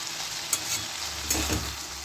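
Okra curry sizzling and frying in a hot pan, with a couple of stirring scrapes over a steady close hiss.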